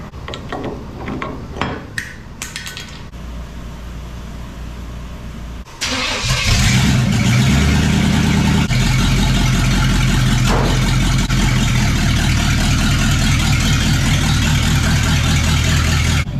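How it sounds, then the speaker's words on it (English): A 1976 Chevy Luv truck with a newly fitted fuel system cranks over after some clanking, catches around the six-second mark and settles into a loud, steady, close idle that runs on alone. "I guess we can officially start this truck up with its new fuel system"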